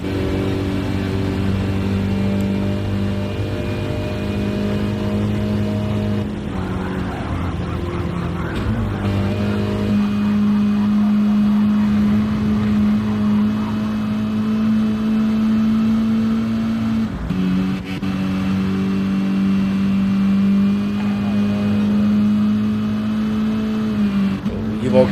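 A race car engine in a sim racing game drones steadily throughout, holding a sustained pitch that shifts with braking and acceleration, under continuous race commentary.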